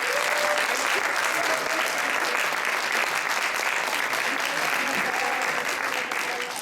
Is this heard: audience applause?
yes